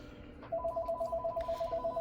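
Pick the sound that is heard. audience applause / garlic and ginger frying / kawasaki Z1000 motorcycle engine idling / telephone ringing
telephone ringing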